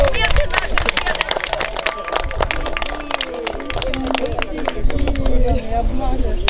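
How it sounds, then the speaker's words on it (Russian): Rhythmic audience clapping fills an award ceremony at an open orienteering championship at Lake Bolshoy Kisegach, dense and steady throughout with crowd murmur and talk underneath. "Аплодисменты нашим членам!"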